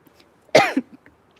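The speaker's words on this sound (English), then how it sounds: "Try not to cough, and then you really have to cough." A single sharp cough, close and loud, followed by a brief throat sound, with near silence around it.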